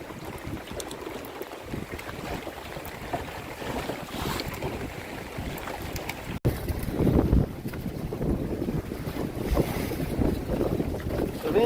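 Wind rushes across a small dinghy out sailing at sea, a loud, unbroken buffeting roar on the microphone with water splashing under it and a sharp gust partway through.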